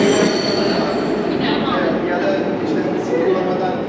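A Budapest metro train in a wood-and-tile station gives a steady rumble and hiss of rolling wheels, with faint squeals rising above it and indistinct voices nearby.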